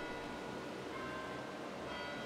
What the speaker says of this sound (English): an abbreviated keyboard is used to manually ring the bells